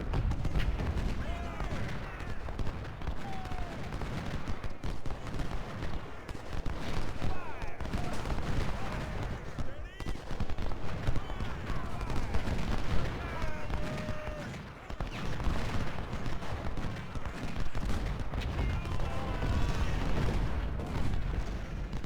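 Musket volleys and artillery from an Ultimate General: Civil War battle at Gettysburg, a steady crackle of massed gunfire with occasional booms, continuous throughout, with someone talking intermittently over the din.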